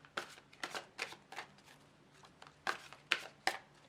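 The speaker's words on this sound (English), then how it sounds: "I'm just going to shuffle the cards and just put all the energy into these cards" Tarot cards being shuffled for a reading: a string of crisp, riffling bursts in irregular clusters, close and fairly quiet, with no talking.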